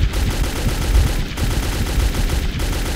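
Rapid automatic gunfire in the first-person shooter game Metro 2033, a loud, dense continuous burst of shots with steady rhythm filling the whole stretch, no talking.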